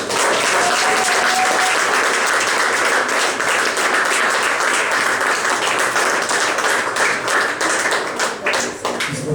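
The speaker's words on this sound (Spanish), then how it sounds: "Denle un aplauso a papá." A worshipping congregation gives sustained, loud applause at a church service, a thick wash of many hands clapping for about nine seconds before easing slightly at the end.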